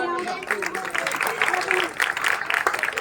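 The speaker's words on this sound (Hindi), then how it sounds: "जोरदार तालियां" Schoolchildren at a school flag-hoisting ceremony break into brief applause, with bursts of clapping mixed with a voice speaking over it for a few seconds.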